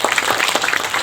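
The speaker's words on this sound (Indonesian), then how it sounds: "Oleh karena itu kita beri tepuk tangan kepada walhi." Brief audience applause for Walhi at a social forestry festival in Padusan Pacet, Mojokerto, a short burst of steady clapping from a crowd in a hall.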